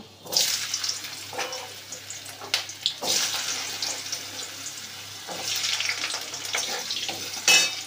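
Potatoes, pointed gourd, eggplant and pumpkin fry in hot oil in a wok after a nigella seed tempering, producing a close, steady, watery sizzle that swells in bursts.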